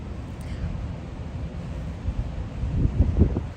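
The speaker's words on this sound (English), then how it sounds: "Why is it so windy?" Wind gusts buffet a microphone in snowy Central Park, New York, a continuous low rushing roar that swells louder toward the end, with no clear talk over it.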